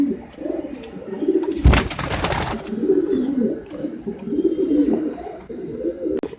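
Grey Halaku breed pigeons in a loft coo softly and continuously nearby, with a short burst of flapping or rustling partway through.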